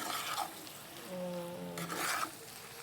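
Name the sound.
stirring eggs in a Teflon pan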